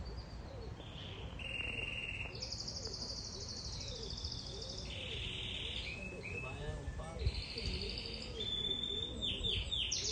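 Small birds, including a canary and pigeons kept nearby, chirp and trill in repeated bursts throughout, with a continuous background of insect-like buzzing and faint low rumble.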